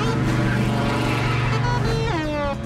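A car engine drones steadily at close range and then shifts pitch as it revs or pulls away, with a voice speaking over the end in an animated scene.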